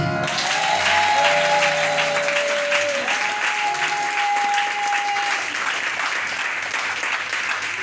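Church congregation applauding steadily throughout, a dense wash of clapping with sustained sung or organ-like tones drifting above it.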